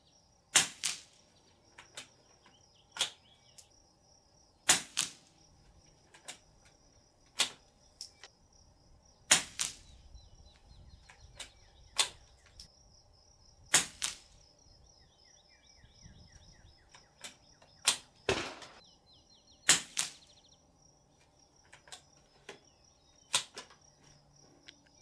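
A suppressed CZ455 .22 rifle fires Norma Subsonic ammunition. About fifteen sharp, faint cracks come at irregular intervals over a quiet outdoor background.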